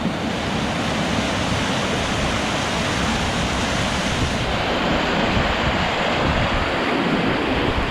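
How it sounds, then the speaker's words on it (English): Flash-flooded creek water pours over a wall in a heavy, continuous roaring rush, dense and unbroken from start to finish with no voices. "I'd hate to guess how many gallons of water's flowing through there right at this moment, but it's a lot."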